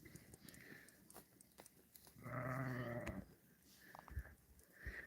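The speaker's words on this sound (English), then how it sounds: "so you can see the lambs outside of the corral" Lambs outside a homestead corral bleat in one clear, fairly close cry lasting about a second. Quieter rustling and faint farmyard noise fill the rest.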